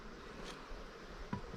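Calm honeybees at an open hive, with a steady low insect hum through the whole stretch and a couple of brief louder bumps.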